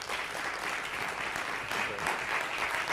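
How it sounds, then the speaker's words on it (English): Conference audience at an education panel discussion claps continuously for the panelists, a steady, even wash of many hands with no voices standing out. "Give them a round of applause,"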